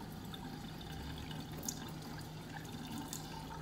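Water running softly from a tap while an orange tabby kitten is bathed, a faint, steady trickle with occasional small splashes.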